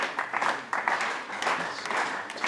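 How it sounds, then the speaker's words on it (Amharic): A crowd applauds the winners of a student quiz competition at a prize ceremony, an uneven burst of clapping rising and falling for a couple of seconds. "ጭብጨባ ያስፈልጋቸዋል።"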